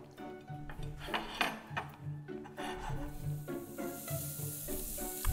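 Cold potatoes are fried again in a pan, giving a steady, moderately quiet sizzle with occasional scraping and stirring clatter throughout.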